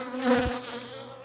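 Bees buzz at a hive in an apiary, a brief close drone that swells and fades within about a second, with one bee passing near.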